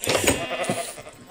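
Sheep bleating in a video game, a brief close bleat lasting about a second, heard alone.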